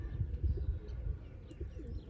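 A pigeon coos in soft, low repeated murmurs, close by, with a few faint chirps over a steady background hum; no one speaks.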